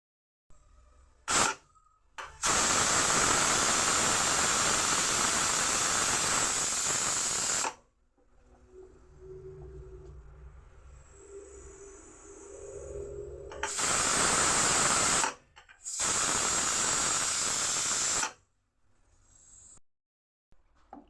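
A pressure cooker whistle releases loud bursts of hissing steam in long stretches while cooking dal with greens, broken by quieter gaps with faint background noise, then hisses again in shorter spurts.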